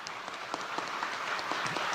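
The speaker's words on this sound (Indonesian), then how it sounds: "Tepuk tangannya kan nggak meriah." A crowd gives thin, unenthusiastic applause during a speech by Megawati, a faint, steady patter of scattered clapping heard at a distance with a few sharper claps standing out.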